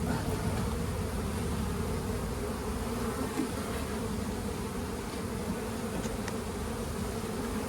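Honey bees swarm around an open hive during a hands-on beekeeping class, a dense continuous buzzing drone that stays close and steady throughout with no voices over it.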